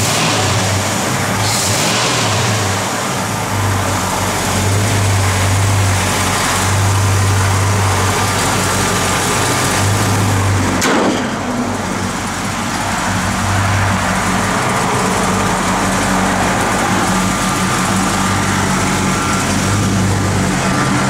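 A 1970 Ford F100 truck with a 460 engine idles steadily and loudly up close, a deep continuous rumble with a brief shift partway through, and no talking over it.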